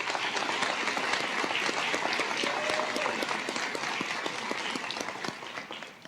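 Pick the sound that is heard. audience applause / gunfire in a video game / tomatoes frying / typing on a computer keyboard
audience applause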